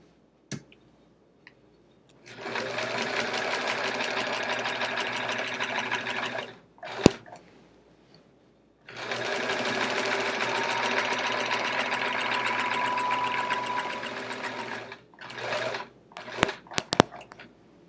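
A sewing machine stitches in the ditch along the seams of a chevron-patterned quilt, running in two long steady bursts of rapid mechanical ticking, separated by pauses with sharp clicks and a few short stitches at the end.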